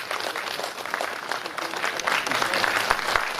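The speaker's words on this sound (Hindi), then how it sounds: "आप सब लोग उनका ताली बजाकर स्वागत करेंगे" Audience applause at a national Buddhist vihara convention welcomes a guest, steady dense clapping from a crowd that swells slightly toward the end.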